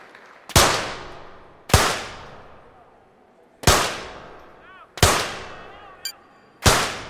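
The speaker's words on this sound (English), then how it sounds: "Here we go then with round 1 of the 25-meter rapid-fire pistol" Five 25-meter rapid-fire pistol shots at the London 2012 Olympics ring out in a quick series, each a sharp, loud crack with a long reverberant decay, spaced about one to two seconds apart with no talking.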